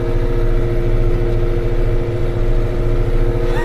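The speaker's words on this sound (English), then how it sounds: "I think the tractor has more sound than the horn." A tractor engine runs steadily at close range while mowing green manure, a loud, even mechanical drone with a constant low rumble throughout.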